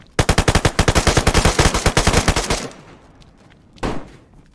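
Rapid automatic gunfire in the DayZ survival game, a loud close burst of about two dozen shots over two seconds, then a pause and one more muffled shot, with no talking.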